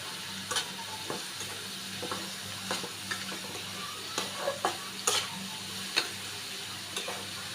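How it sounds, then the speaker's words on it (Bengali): Chopped garlic frying in hot oil in a pan, a steady close sizzle with scattered soft pops and stirring ticks throughout. "তেলটা গরম হয়ে গেছে। আর দিয়ে দিব রসুন কুচি।"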